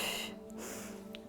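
A quick, sharp inhale during a Pilates mat exercise, a short breathy gasp over a steady low hum with an instructor's voice nearby.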